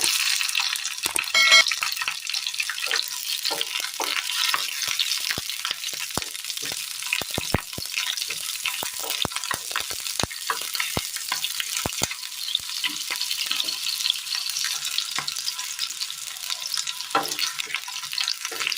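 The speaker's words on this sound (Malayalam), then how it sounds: "ഇതിലേക്ക് 2 ചെറിയുള്ളി 4ആയി അരിഞ്ഞെടുത്തത് ഇട്ട് കൊടുക്കാം. രണ്ട് പച്ചമുളക് അരിഞ്ഞത്," Shallots cut into quarters and chopped green chillies fry in a pan of oil for a Kerala chutney, making a constant loud sizzle with sharp crackles and pops and occasional stirring. No one speaks.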